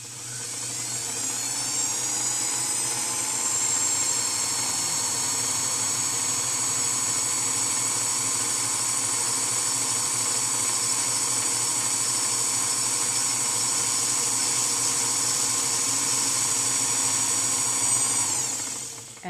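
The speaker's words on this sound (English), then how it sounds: "this bobbin winder has a bobbin winding stop so that it will automatically stop when the bobbin is full." A sewing machine's bobbin winder spins a bobbin full of thread, giving a continuous high, thin whine that holds steady for a long stretch before cutting off when the bobbin fills. It is close, with no voices.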